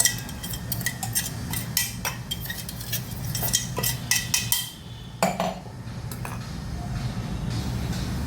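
A spoon scraping and clinking in a metal pan while ground peanut, green chilli and garlic are stirred into cooked bottle gourd, repeated close scrapes and taps alone with a short quiet pause midway.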